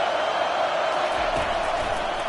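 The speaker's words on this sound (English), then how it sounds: "Decibels rising as the crowd gets behind this defense on 3rd down." Stadium crowd roaring in NCAA 25 college football on a third down: a broad, sustained crowd noise that swells slightly, loud and continuous, with a thump near the middle.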